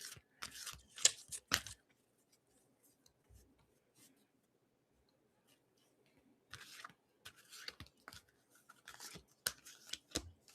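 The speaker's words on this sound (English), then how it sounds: "Celine, do you want me to pull from the top or do you want me to cut the deck?" A deck of playing cards is cut and handled close up, with quick rustling and snapping bursts at the start and again near the end, separated by several seconds of near silence.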